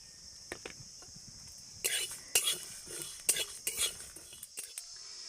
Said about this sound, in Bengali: এই সবগুলো উপকরণকে এখন আমি শুকনো কড়াইতে ভেজে নেব।